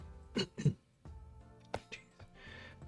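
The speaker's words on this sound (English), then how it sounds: "I cannot clear my throat." One person repeatedly clears their throat, a run of short rough bursts close to the mic with brief quiet gaps between them and a softer raspy exhale at the end.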